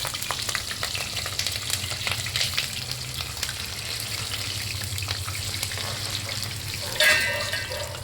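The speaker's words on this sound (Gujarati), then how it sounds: "શાકનું તેલ મૂકી અને બે ચાર મરચાં પેલા તળી લઈ." Green chillies fry in oil on a country stove, giving a continuous close sizzle over a low hum, with a sharp metallic clank near the end.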